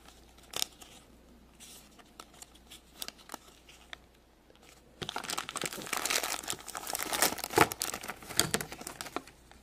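A small sticker book being handled, its paper pages crinkling and rustling close by in scattered soft crackles at first, then growing denser and louder in continuous crumpling and flipping.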